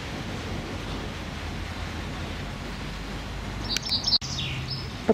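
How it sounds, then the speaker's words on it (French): A songbird chirps outdoors in a park in Pau, France, a few brief high calls near the end, rising only slightly above a steady wash of wind-like background noise. "je vous ai fait entendre aujourd'hui, ce jeudi 10 juin, cet oiseau qui chante pas beau mot"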